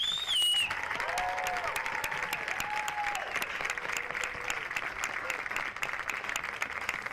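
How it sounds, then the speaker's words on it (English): Sustained crowd applause at a Mason high school softball game honoring the senior class, steady clapping and cheering throughout with a few whistles near the start. "give one more big round of applause for your Mason softball"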